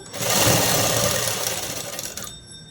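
An electric sewing machine stitching cloth in steady straight seams, a loud continuous whirring hum that runs close by, then cuts off just before the end.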